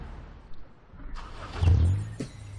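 A car in the Sleeping Dogs video game spins through donuts, its engine rising into a loud revving roar with a tire scrub and a sharp knock near the end, over low background rumble.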